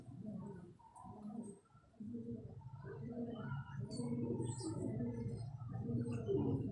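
Pigeons at a pigeon club coo in low, repeated throaty phrases, several birds close by in a steady overlapping rhythm, with a few faint higher chirps in the background.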